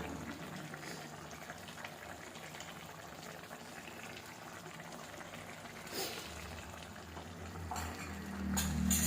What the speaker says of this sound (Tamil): சிக்கன் வெந்துட்டு இருக்கு